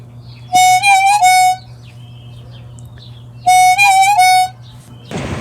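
Harmonica plays two short wavering phrases of bent, reedy notes, close and loud over a low steady hum, with a pause between them.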